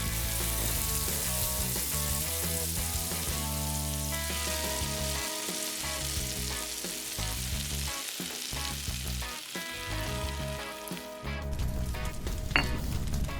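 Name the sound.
frying crab in oil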